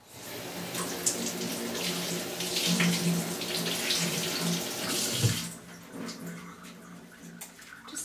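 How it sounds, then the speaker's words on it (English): Asparagus rinsed under a running kitchen sink tap, a steady close gush of water splashing for about five seconds before the flow stops, leaving faint drips and handling sounds. "I'm just going to lightly rinse it in the sink."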